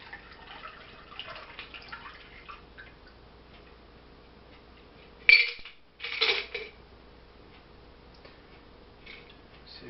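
A gin cocktail is double strained through a fine strainer, giving faint, sparse drips and trickles with two brief louder splashy bursts midway, in a quiet room.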